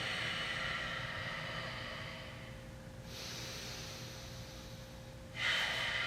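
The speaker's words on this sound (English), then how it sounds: "breathing in and out of your nose" Slow, audible breaths drawn in and let out through the nose during a yoga session at home, two long airy swells over a low steady background hum, close to the microphone, with no talking.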